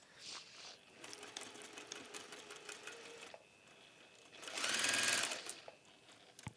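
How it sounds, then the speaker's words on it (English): A sewing machine stitches fabric in short bursts of rapid mechanical whirring and clatter, building to a louder, steady run near the end, close and clear with no talk. "Yes, it is sewing."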